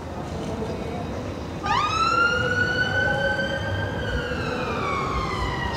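Ambulance siren on a busy Saturday night seafront street in Blackpool near the North Pier, rising in abruptly partway through and holding a loud wailing tone over steady street noise and distant music.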